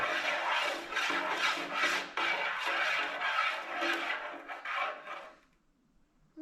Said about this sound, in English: you take the magnet and swirl it around in there and see if we pick up anything cool in there